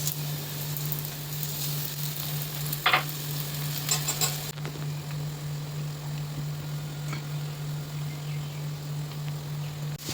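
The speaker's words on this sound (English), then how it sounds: "Heat a pan, add a little oil and shallow fry the cutlets." Chickpea cutlets shallow fry in a little oil in a pan with a continuous close sizzle and a low steady hum beneath it, plus a few brief crackling bursts in the first half.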